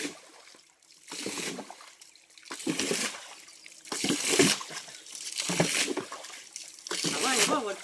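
Water splashes and trickles in short bursts as a stream-side rock pool is bailed out to catch snakehead fish, each pour fairly near and moderately loud, with people talking between scoops.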